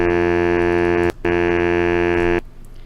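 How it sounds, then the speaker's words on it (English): A steady, reedy low synthesized baritone saxophone tone, made from a single-wavecycle bass clarinet sample, sounds in two long sustained notes separated by a brief gap, then cuts off into quiet. "that's how you turn a bass clarinet into a baritone saxophone"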